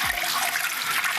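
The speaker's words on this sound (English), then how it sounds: "what we're going to be adding to the pot is we've got a beautiful jug of pork stock" Pork stock is poured from a jug into a cooking pot, a steady, close splashing flow of liquid heard alone throughout.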